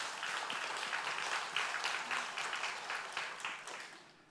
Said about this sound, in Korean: 우리에게 은혜 베푸신 하나님께 우리 영광의 박수 한번 올려보십시다